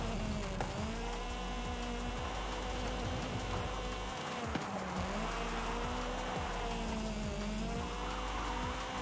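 A Toyota Trueno drifting in Forza Horizon 5: a loud, continuous, buzzing engine note that rises and falls in pitch as the car slides, with a steady rough roar throughout and no talk.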